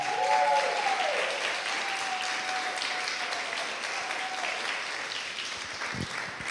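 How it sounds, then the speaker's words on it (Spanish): Church audience at a Christmas service applauding for Cecilia, a steady dense wash of many hands clapping at close range, with a brief sustained tone fading early and no talk over it. "¿Por qué no le da un aplauso a Cecilia?"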